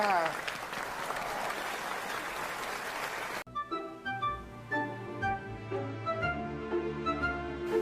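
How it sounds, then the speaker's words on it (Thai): Audience applause at a pageant crowning ceremony, a dense, steady clatter of many hands for about three seconds that cuts off abruptly into music with clear sustained tones. "ขอเสียงปรบมืออีกครั้งหนึ่งค่ะ"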